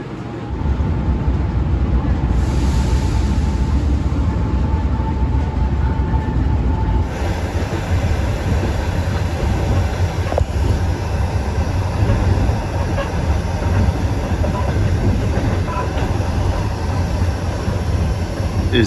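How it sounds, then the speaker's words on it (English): Passenger train in Ukraine heard from on board, a steady loud rumble of wheels and carriage with faint rhythmic clatter and occasional squeals throughout. "I hope this is the right train."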